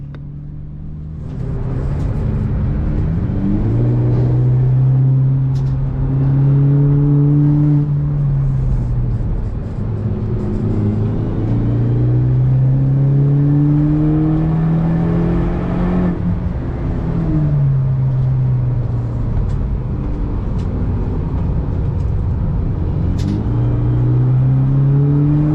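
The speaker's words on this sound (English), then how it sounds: "we went out for our first lap on the Nürburgring" Car lapping the Nürburgring race track, engine droning loudly and continuously from inside, rising and falling in pitch as it accelerates through gears and slows for bends.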